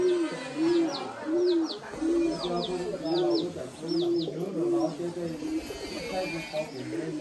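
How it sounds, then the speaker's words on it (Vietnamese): A flock of pigeons coos in repeated soft, rounded phrases close by at a rural village house, with chirps overhead and people talking in the background. "thấy chim bồ câu cứ bay lượn ở đây từng đàn một này"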